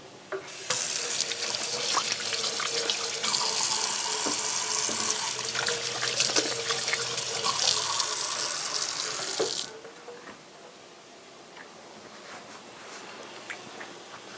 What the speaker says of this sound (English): I always wash my hands afterwards.